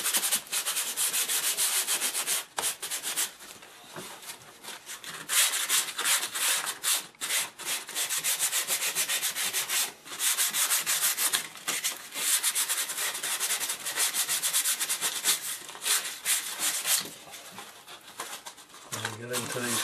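Hand sanding over a repaired chip in an MDF baseboard, with sandpaper curved to fit the profile, producing continuous close rhythmic rubbing strokes that run almost without a break and have only a few brief pauses.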